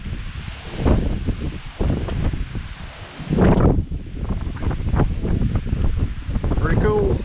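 Strong, cold gusts of wind blow across a mountain trail on the way to Sharp Top, roaring and buffeting the microphone in surges, with people talking over it.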